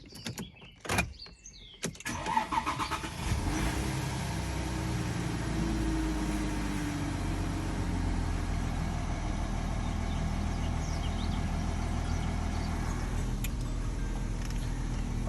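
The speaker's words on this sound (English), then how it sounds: "So if we just start the car." Audi Q7 with a glow plug and engine warning light starting up: a few sharp clicks and a cranking burst, then a steady, even idle hum holding for the rest of the stretch, close and fairly loud.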